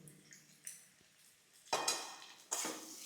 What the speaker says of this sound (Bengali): এবার ঢাকনাটা খুলে দিলাম, দিয়ে এবারটাকে আবার নাড়তে শুরু করলাম।